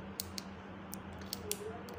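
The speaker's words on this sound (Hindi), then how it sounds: "स्विच जैसे कि मैं ऑन ऑफ कर रहा हूँ तो बढ़िया वर्क कर रहा है" Small plastic switch on an HTC electric hair trimmer being clicked on and off several times, sharp isolated clicks over a faint low hum, close and quiet.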